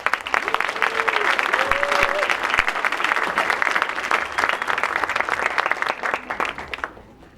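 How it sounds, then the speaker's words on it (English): An audience applauds the evening's host at an awards event, a loud, sustained wash of clapping with a few whoops mixed in, fading quickly near the end. "Thank you for stopping the applause so quickly."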